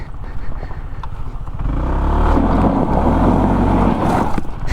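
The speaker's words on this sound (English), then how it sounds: "I was trying to do a little burnout here" A motorcycle revs on gravel during a burnout attempt. A low engine idle swells at about two seconds into a louder, sustained roar that holds to the end, close to the microphone.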